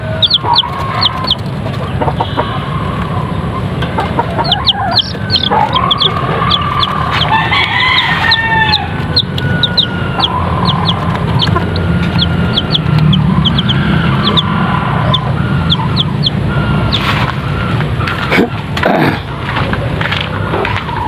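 Backyard chickens cluck loudly and close by in rapid, repeated calls, with a rooster crowing among them over a steady bed of farmyard noise.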